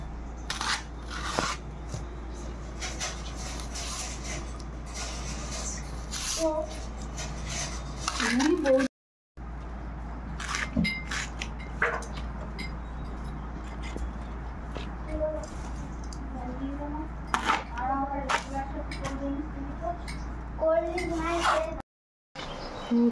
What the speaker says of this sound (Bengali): এবার কচুর শাকগুলো কেটে নেব।